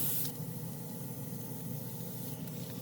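Swallowtail side feed airbrush spraying paint, a soft steady hiss of air that runs close and unbroken, with a brief sharper burst at the start and another near the end.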